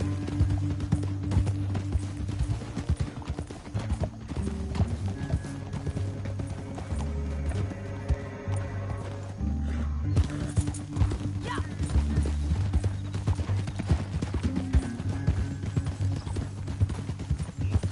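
Horses' hooves clip-clop steadily on hard ground in a western canyon setting, a continuous rhythmic clatter of several animals moving together, fairly close.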